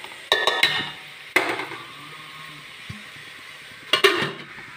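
A chickpea and lentil curry with amaranth stems is stirred in a cooking pot, with close metallic clanks of the spoon against the pot, then a quiet stretch and a final clatter as the lid goes back on.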